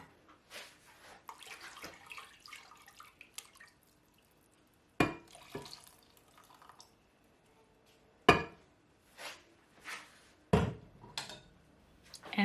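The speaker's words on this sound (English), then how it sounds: "add a little bit of stock into the blender and then rinse it out and add it to the soup" Stock sloshes around inside a blender as it is rinsed out, giving irregular bursts of splashing and pouring with drips and quiet gaps between them, close by.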